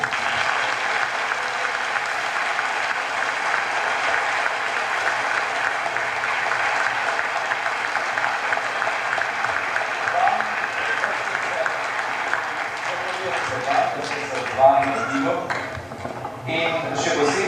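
Sustained audience applause at a folk ensemble evening in a concert hall, dense and steady from a large crowd, fading slightly near the end with a few louder claps.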